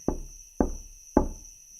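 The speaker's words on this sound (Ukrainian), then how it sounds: "Увечері до хати постукали" Three firm, evenly spaced knocks land on the door of a house, each one close and resonant with a short decay, over a faint steady background tone.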